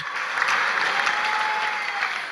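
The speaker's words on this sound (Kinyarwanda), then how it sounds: "Reka dukomere Imana amashyi menshi" Members of a church congregation clap together during a sermon, producing a steady burst of applause that holds at an even level for about two seconds without any voices.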